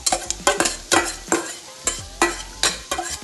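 Sliced shallots frying in oil left from frying fish, with a close, steady sizzle and repeated rhythmic stirring strokes scraping the pan, about ten in quick succession.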